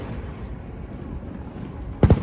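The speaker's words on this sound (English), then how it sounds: "we're gonna sit here and watch the fireworks behind a tree" Distant fireworks at Disney World, muffled behind trees, show as a low ongoing rumble of crowd and ambience broken near the end by two quick, loud booms close together.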